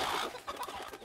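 Chickens cluck in the video game Fable Anniversary, a burst of busy, close clucking over a bright, hissy game ambience.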